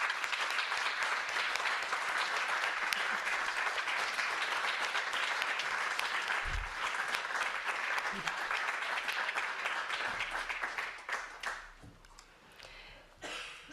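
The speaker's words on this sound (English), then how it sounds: "Everyone, would you please give them a big round of applause?" A large audience at the Global Ethics Forum 2025 breaks into sustained applause, dense and continuous clapping filling the room before it thins and fades out near the end.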